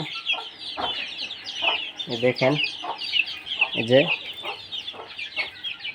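Desi chickens with about twenty-five chicks clucking and peeping in a farm enclosure, a busy run of short close calls with high chirps above, while someone speaks briefly.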